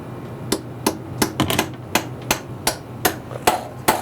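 A hammer taps a bolt into place during a motorcycle clutch and oil change, landing about ten sharp, close metallic strikes in an uneven rhythm, some doubled, with no talking.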